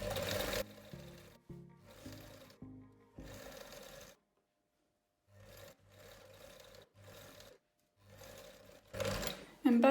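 A sewing machine stitches around a garment in several close, steady runs of whirring, separated by short pauses as the fabric is turned.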